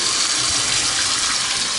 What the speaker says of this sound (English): This building has great water pressure. So we'll turn that on.